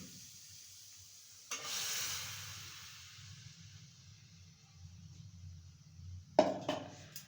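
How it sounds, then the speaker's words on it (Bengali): Blended orange juice and milk poured into a hot kadai on a gas stove, a soft hissing sizzle that swells and slowly fades, followed by a couple of sharp utensil knocks near the end. "কড়াইতে দিয়ে দেবো একসাথে। গ্যাসে একটা কড়াই বসিয়ে দিয়েছি, ঢেলে দিচ্ছি।"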